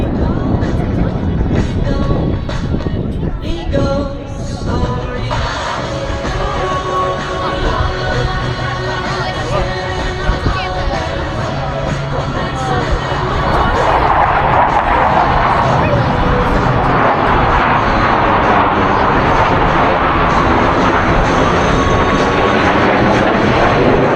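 Four Blue Angels jets fly the Diamond Roll at 400 miles per hour over the MCAS Cherry Point air show. Their roar swells from a distant rumble into a loud, sustained wash, with crowd noise and a voice speaking through it.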